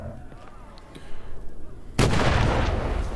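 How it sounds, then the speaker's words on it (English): A stun grenade going off in the VR shooter Medal of Honor: Above & Beyond: after a murmur of muffled noise, a sudden loud blast hits and leaves a dense, ringing roar that holds to the end. "Stun grenade."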